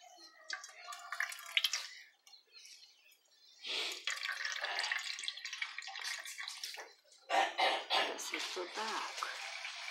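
Grated coconut being squeezed by hand in a lot of water, giving splashy sloshing and trickling bursts that come and go, fairly close, with brief pauses between squeezes.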